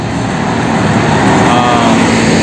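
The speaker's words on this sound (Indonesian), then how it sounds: "bus pariwisata ngangkutin pemudik" Tour bus carrying holiday homecoming travelers drives past on the Linggapura–Bumiayu road, a loud, close, steady engine and tire rumble swelling slightly as it passes.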